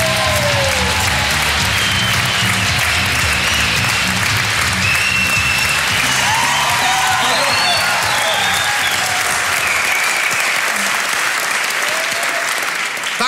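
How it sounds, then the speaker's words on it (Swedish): A comedy roast audience at Berns claps and cheers for a comedian, a dense, loud, continuous wave of applause with scattered whoops that thins out near the end. "Jag vill ha finska applåder, inte sådana svenska."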